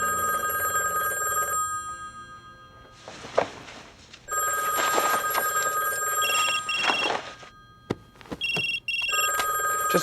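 A telephone rings in loud repeated bursts with short pauses between them, a steady electronic ring pattern in an indoor room, with some clattering and handling noise between rings.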